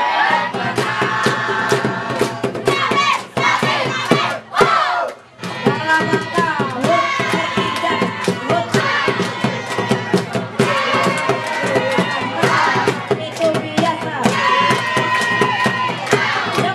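A school team at a quiz competition held for the 66th anniversary of the Indonesian armed forces chants a loud, sustained group yell cheer, many voices together with steady rhythmic energy and brief pauses, filling the hall.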